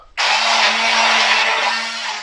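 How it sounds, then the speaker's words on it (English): A kitchen blender running at full speed to purée marinara sauce ingredients with caster sugar for meatball subs, starting abruptly and holding a loud, steady whirring roar with a low motor hum throughout. "take a blender and just get all that mixed together"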